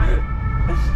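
An ambulance siren wails from behind a van on a road trip near Geneva, heard through steady road and engine rumble inside the vehicle, moderately loud and continuous.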